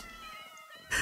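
A cat meow from the video game Minecraft, a single short high-pitched cry heard up close, ending in a sudden burst of louder noise.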